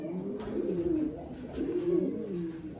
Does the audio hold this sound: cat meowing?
no